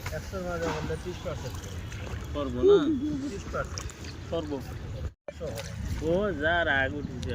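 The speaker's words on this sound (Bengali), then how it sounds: "আমাদের নৌকাটা আর কি ছেড়ে দিয়েছে" A boat pulls away across the water in Bangladesh, with a steady low rumble and wash beneath close, continuous talking and some wind noise.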